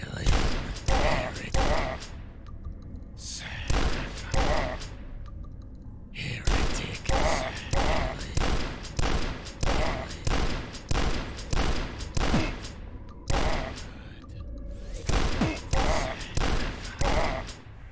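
Shotgun blasts in the retro shooter DUSK, a long run of loud, sharp shots fired at a steady, fairly quick pace, with only short pauses between bursts.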